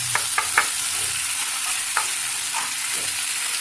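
Poha is stirred in a hot pan, with a few quick scraping strokes early on and then scattered spatula scrapes over a continuous frying hiss, close up and without voices.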